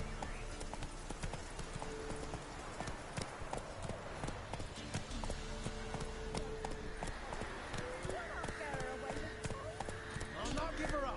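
Roach the horse gallops in The Witcher 3: Wild Hunt, with steady rhythmic hoofbeats clopping up close throughout, joined by game music and voices talking over the ride.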